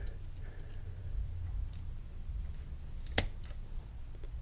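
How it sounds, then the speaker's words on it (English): A single sharp snip of scissors cutting a sweet potato slip off its tuber, close and crisp against a quiet room hum, with faint handling rustle around it. "Cut this slip here off"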